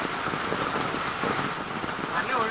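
Heavy rain pours down in a dense, steady hiss, drumming on surfaces nearby without letup, during flooding as the Meenachil River overflows in Kerala.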